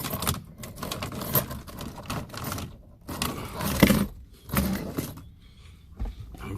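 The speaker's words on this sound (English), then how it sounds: "Got my keys. Let me put the keys right here." Car keys jangle and clink close by inside a parked car, a series of irregular metallic rattles with short quiet gaps between handlings.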